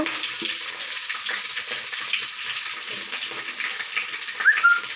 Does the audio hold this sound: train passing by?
no